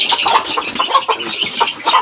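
Young chicks being raised by a breeder cluck and peep in agitation after a duck gets into their pen, a busy, continuous chorus of close chirps and clucks.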